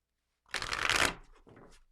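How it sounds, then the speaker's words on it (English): A deck of tarot cards shuffled once, a quick riffling burst of papery flutter lasting about half a second, followed by softer card handling, close and alone. "just take a breath as I shuffle from the last reading"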